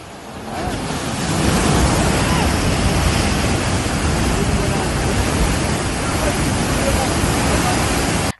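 Kaleshwaram project canal water gushing from the Ramadugu Lakshmipur pumps, a steady, loud broadband roar of rushing water like surf that swells up over the first second and then holds without a break.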